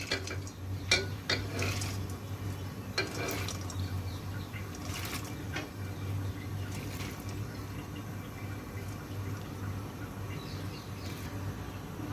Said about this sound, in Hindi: दाल में पानी ऐड करूँगी